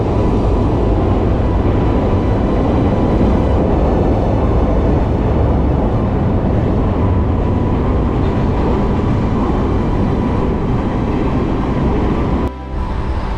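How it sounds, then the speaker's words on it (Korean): A train crosses the Hangang Railway Bridge in Seoul, its wheels rumbling loud and steady on the steel rails for a long continuous stretch, heard close from a riverside cycling path, with a brief thump near the end. "이곳은 열차가 지나가면서 바퀴가 철길에 부딪히는 소음을 들으며 가야 제맛입니다"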